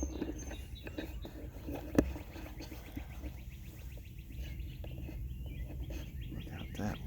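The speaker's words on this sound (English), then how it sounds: "we'll listen to the bird song" Birds sing outdoors on a quiet morning, a few faint, distant chirps and short trills scattered over soft background hum, with one brief knock partway through.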